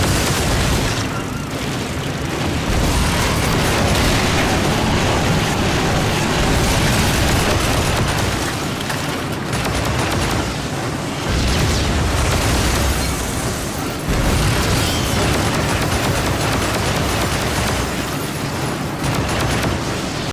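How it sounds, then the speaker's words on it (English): Continuous loud gunfire and booming explosions from the PC shooter Lost Planet: Extreme Condition, a dense, relentless barrage of blasts and bursts with brief dips, and no talking over it. "Weapons fire is loud, explosions are booming"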